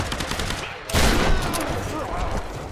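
Gunfire in the Tomb Raider video game, a burst of shots and impacts around a loud blast near the one-second mark, with game noise continuing under it.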